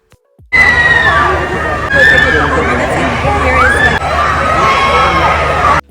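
A crowd at a Moschino fashion show screams continuously in loud, shrill, sustained cheers, with high piercing shrieks rising over a dense roar of fans.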